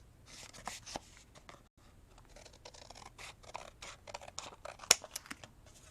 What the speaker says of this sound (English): Okay, so I'm going to cut this extra off here.